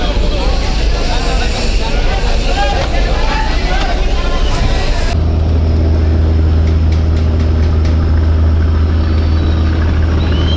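Passenger launch Sundarban-16 pulling away from Barisal ghat, its engine settling into a deep, steady drone partway through, with a busy crowd babbling at the terminal.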